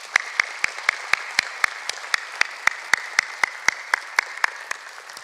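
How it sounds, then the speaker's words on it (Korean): A church congregation applauds to thank the choir after a worship service, with a steady, evenly spaced rhythm of synchronized claps of moderate loudness and no talking. "우리 박수로 고마움을 전합시다"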